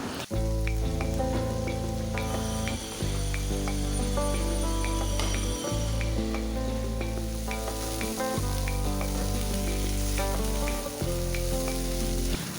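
Cauliflower and potato vegetable curry frying in a pan over medium heat, a continuous loud sizzle broken by repeated scraping stirs at a steady rhythm, with no talking.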